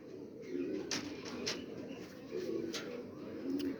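Pigeon cooing nearby in a loft: soft, low, repeated throaty coos in rolling phrases, with faint clicks and background noise and no clear talking.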